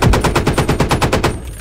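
Warrior IFV machine gun firing in the Squad video game, a rapid burst of about a dozen evenly spaced loud shots that ends abruptly.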